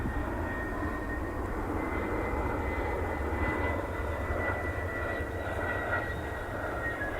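A United Airlines Boeing 757-300 on approach near Cleveland, a steady loud jet engine roar with a faint whine, sustained without talk.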